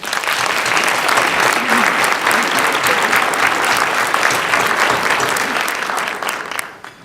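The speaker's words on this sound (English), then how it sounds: "Let's give them a round of applause" Sustained applause from a crowd of diners at an education foundation banquet, a dense wash of clapping that holds steady and loud for several seconds before fading out at the end.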